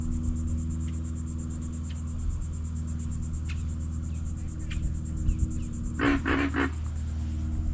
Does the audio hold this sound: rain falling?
no